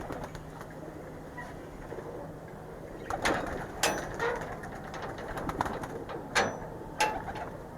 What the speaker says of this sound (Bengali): সুন্দর বের হচ্ছে কবুতরগুলা, মাদি কবুতর এগুলা সব।